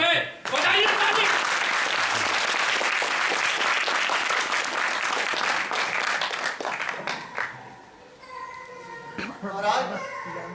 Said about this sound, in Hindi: और अभी आपको तालियों की आवाज सुनाई देगी कि सब आपके साथ हैं।